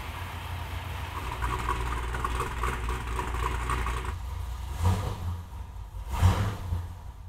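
A car left standing unused for about 600 days has its engine cranked and fired, giving a steady low rumble followed by two short, louder revving bursts close by, with no talking.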